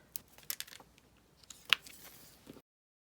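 Scissors snip excess ribbon from a bow on a handmade stamped card, a few quick close clicks and small snips, quiet and sparse with short gaps and no voices.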